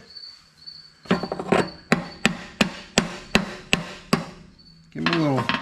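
A slide retainer washer is tapped off a 1950 Chevy Deluxe brake with a handful of sharp, evenly spaced metallic taps close up, followed by a brief scraping clatter.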